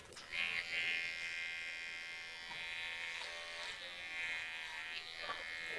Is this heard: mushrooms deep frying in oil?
no